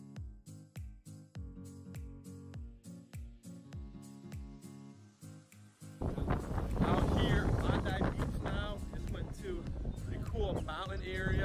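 Wind at a beach in Sydney, Australia on a hot day rushes loudly and roughly across the microphone in the second half, after a stretch of rhythmic tapping and clopping.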